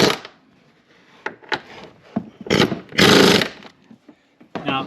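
Strut bolts on a 2015 Subaru Outback rear suspension are tightened with a power tool, producing several short, loud bursts of whirring and rattling separated by quiet gaps.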